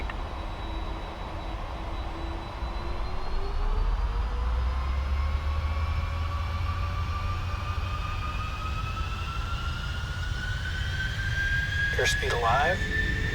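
Qantas Boeing 747 jet engines spooling up on the takeoff roll from runway 26 left, a steady loud roar with rising whine tones building over several seconds, with a brief radio voice near the end.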